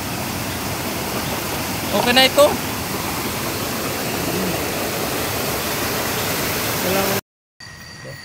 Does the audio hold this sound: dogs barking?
no